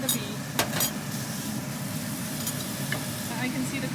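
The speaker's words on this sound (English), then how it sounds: "My pan is hot. I am adding in the beef." Beef sizzles steadily in a hot pan, a close, continuous crackling hiss with occasional louder pops and stirring scrapes throughout.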